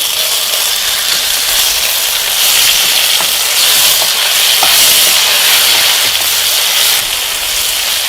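Ginger garlic paste fries with cumin in a hot pan for a stuffed brinjal masala curry, giving a steady, loud, close sizzle broken by occasional light scrapes of stirring, with no talk.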